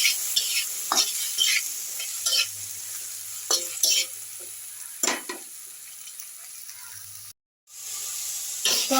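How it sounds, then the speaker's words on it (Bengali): Tomato frying in a pan with salt and turmeric gives a steady close sizzle, broken by repeated bursts of stirring and spatula scrapes and one brief silent gap near the end; no one talks. "টমেটোটা একটু ভাজা ভাজা হবে।"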